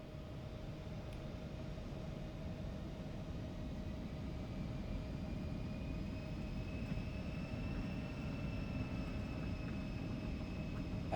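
Airliner engines in X-Plane 12 hold a steady, faint broadband roar with a thin whine that slowly rises in pitch as they spool up, continuous and without talk.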